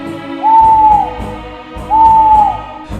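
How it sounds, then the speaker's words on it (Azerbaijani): An owl hoots twice from the distant Shirvan mountains at night, each call a drawn-out, clear, mournful tone with a short pause between them, standing out loudly over a soft low background. "Uzaqdan Şirvan dağlarından vahiməli bir bayquş səsi gəlir."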